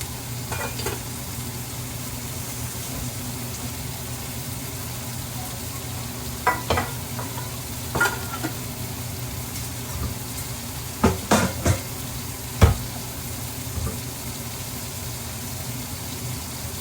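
An egg fries in a pan and is stirred: a steady sizzle runs throughout, and a few clinks and scrapes of a utensil against the pan rise above it.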